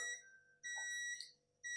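A workout interval timer sounds loud electronic beeps in three bursts, the middle one longest, with quiet gaps between and no one talking.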